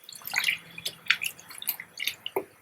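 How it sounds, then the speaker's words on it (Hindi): A cup of water poured over pitted dates in a container for date chutney, heard as a series of close, irregular drips and splashes rather than a steady stream, with no voices. "और पानी डाल लेंगे थोड़ा"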